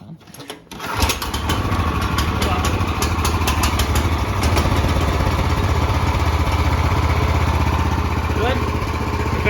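A 420cc Predator go-kart engine being rebuilt catches after a brief starting pull and settles into a loud, steady, close-up running drone for several seconds, with a little background chatter.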